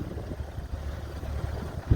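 Steady gusty wind buffets the microphone outdoors near a Jacobs 17.5 kW wind turbine, a constant low rumble of noise with no other sounds.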